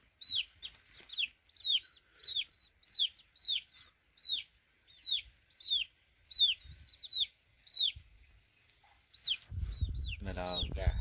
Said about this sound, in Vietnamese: Này là gà.